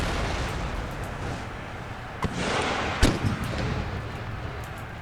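A battle in Empire: Total War, with distant cannon booms and muskets cracking in a couple of sharp bursts over a constant rumbling roar of combat.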